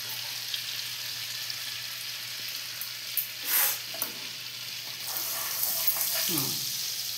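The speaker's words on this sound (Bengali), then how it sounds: "এই জিরেটা ভালো করে ভেজে নিয়ে এবার পেঁয়াজ দেবো।" Cumin seeds fry in oil and butter in a pan, a steady broadband sizzle with occasional stirring scrapes, close and moderately loud, with no talking.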